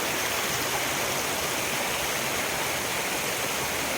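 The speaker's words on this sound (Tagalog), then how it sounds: "dito na ako sa itaas ng Kasili Falls" Kasili Falls pours in a dense, constant roar of rushing water, loud and close, with no break or variation throughout.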